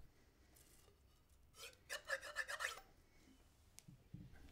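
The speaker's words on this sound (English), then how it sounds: "Then rub the inside of the tube," Inside of a horn's tubing being scrubbed with a cleaner, a short burst of quick rasping rubs in the middle, quiet and close, with faint handling sounds before and after.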